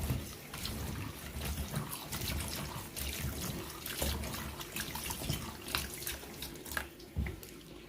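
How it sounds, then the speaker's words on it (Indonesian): Bitter melon is washed under a running kitchen tap, with continuous splashing water and irregular splatters as the vegetable is rubbed and turned under the stream. "Kita cuci sampai bersih ya."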